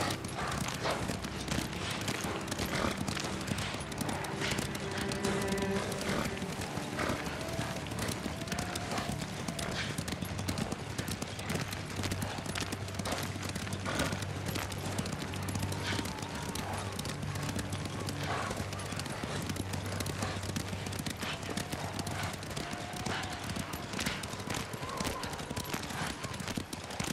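Rapid clip-clop of horses galloping in the video game Ghost of Tsushima, a loud continuous hoofbeat rhythm over ambient game sound, with a brief whinny and some voice underneath.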